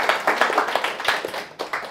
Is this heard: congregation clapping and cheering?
yes